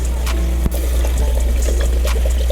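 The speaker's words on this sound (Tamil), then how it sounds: "இப்போ நான் இதில் 800 ml தண்ணி ஊற்றிக்க போகிறேன்." About 800 ml of water is poured into a cooking pot for prawn dum biryani, a continuous loud rushing splash over a steady low hum, with one brief dip partway through.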